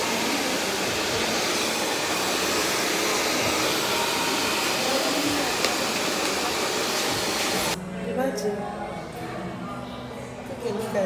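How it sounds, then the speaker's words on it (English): A hair dryer blows hair dry with a loud, steady broadband whoosh close by that cuts off abruptly near the end, leaving quieter room sounds and speech. "Now she's trying to like blow dry the hair."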